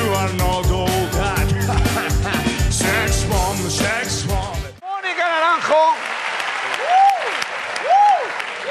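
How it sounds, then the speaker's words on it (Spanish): Studio audience applause at a televised celebrity-impersonation gala show, loud and continuous, first mixed with music and then carrying on under excited shouting voices. "¡Aplaudamos!"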